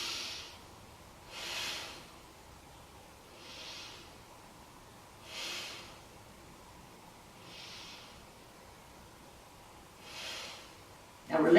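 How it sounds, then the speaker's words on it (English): Slow, steady breathing while holding a beginner yoga pose, six soft breaths spaced about two seconds apart, each a gentle airy rush close to the ear, with a louder rustle right at the end. "let's take 3 breaths here"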